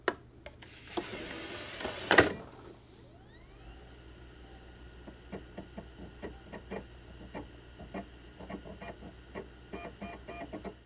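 An Xbox Series X disc drive whirs and spins up, then settles into a faint mechanical ticking and clicking rhythm, quiet and close, with no voices.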